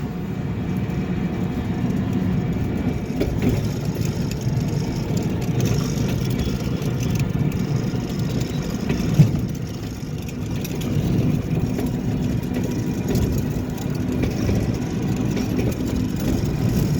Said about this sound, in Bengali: এখন চলো, টোটো যাচ্ছে।